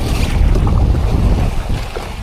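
Rough sea around a small fishing boat heading to a rocky fishing spot in strong current, with steady loud wash of waves and wind buffeting the microphone throughout, no voices.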